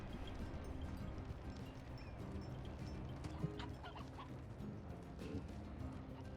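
Chickens clucking in the Slime Rancher video game, faint scattered clucks over a steady dense background hum, no talk.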